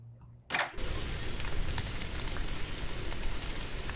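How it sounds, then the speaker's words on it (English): Steady rain falls at night, a dense even hiss that starts abruptly after a brief quieter moment and continues alone without talk. "and it is also raining"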